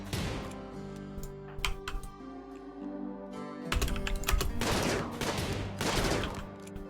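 Colonists firing guns at a warg in the video game RimWorld, sharp repeated shots and crackling volleys over steady game music, loud and busy with no talk.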